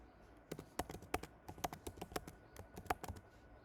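An email address being typed on a computer keyboard: quick, irregular clusters of close, crisp key clicks in a quiet room with no voices.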